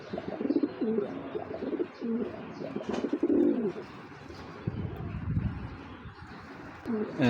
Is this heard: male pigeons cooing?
yes